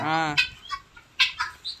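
Backyard chickens cluck in a few short, sharp bursts close by, following a brief opening call, on a garden farm where ducks and hens are kept.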